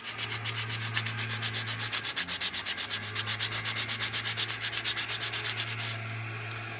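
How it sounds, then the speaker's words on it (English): Plastic guitar pickup covers are roughed up on a sander: a steady motor hum under a rapid, rhythmic rasping that pulses evenly for several seconds, close up, then stops while the motor keeps humming. "then I like to rough them up on the sander, make them look all old and dingy"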